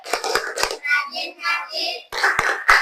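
Children doing the rhythmic tepuk anak soleh clapping chant in a classroom, short bursts of sharp claps between stretches of chanted voices, close and lively.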